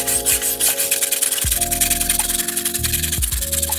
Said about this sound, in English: Okay, wire brush.